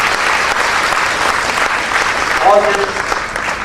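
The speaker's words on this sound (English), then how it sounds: "That's an applause which they deserve, I'm sure." Audience applause at a school gathering honouring students bound for a youth leadership program, a dense, steady roar of many hands clapping that fills the whole stretch at close range.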